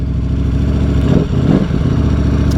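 A loud 2021 Ducati Streetfighter V4 with a converted dry clutch idles close by with a steady low rumble and a rattling, clattering mechanical tone.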